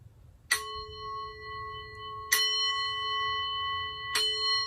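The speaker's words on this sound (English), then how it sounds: "going to ring the bell" A handbell rings three times, each a bright clear strike that rings on and fades before the next, spaced about two seconds apart with no talk.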